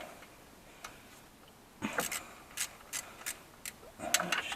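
Socket on a small extension loosening 8mm sump pan bolts on a BMW R56 Mini: a faint quiet stretch, then a burst of close metallic ratcheting clicks in short irregular runs, a louder cluster at the end.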